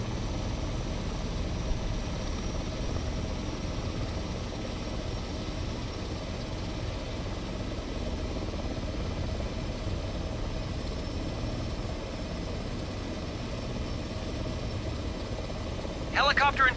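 Steady low rumble of an H145 helicopter's engines idling in Microsoft Flight Simulator, an unbroken drone throughout with a brief higher burst at the very end.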